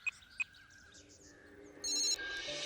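Electronic telephone ring in a Hindi-dubbed South Indian action film scene, a couple of short chirps followed by a sustained bright tone, with no talking over it.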